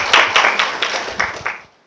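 An audience at an academic panel on Islamic jurisprudence gives a short round of applause, a burst of close, lively hand clapping that thins out and fades within about two seconds.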